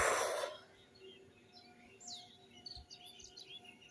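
Birds chirp at sunrise from a rooftop, a scatter of faint high tweets and short whistling calls at a distance over quiet background hiss, after a brief burst of noise at the start.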